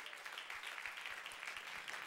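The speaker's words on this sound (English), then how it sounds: "Let's clap our hands to the Lord." A church congregation claps along in a steady, rapid rhythm, faint and distant, forming a continuous wash of hand claps with no clear voices on top.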